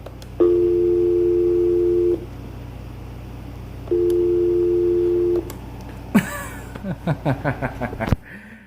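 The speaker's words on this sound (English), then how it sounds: "Now let us go ahead and redial the number again." An AT&T EP5995 cordless phone redialing a number: two long, steady electronic tone bursts sound in the earpiece, then the line goes quieter and someone chuckles several times close by.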